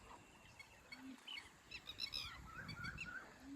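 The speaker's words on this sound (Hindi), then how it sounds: "और ये बीच बीच में पक्षी बोल रहे हैं।" Birds call intermittently beside the Narmada river, with several short chirps and honk-like cries, some near and some farther off, over a soft background of flowing water.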